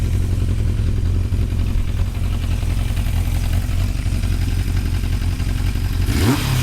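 A Japanese motorcycle engine, wired up from scratch with minimal wiring, runs steadily at close range and is revved near the end, the pitch sweeping upward in a short burst.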